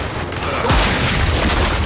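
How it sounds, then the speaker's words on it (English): A grenade explodes in the video game Gears 5 amid combat, a sudden loud boom after a brief faint beeping, followed by rumbling debris and crackling that carries on to the end. "Throwing grenade!"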